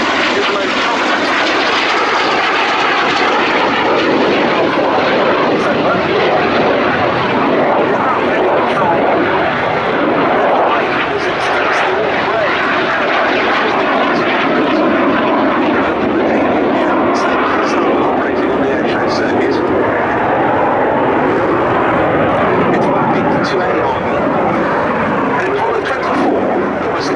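A pair of BAC Strikemaster jet aircraft fly at the Duxford summer airshow, a loud sustained roaring engine drone that fills the whole stretch, with an announcer's voice audible beneath it.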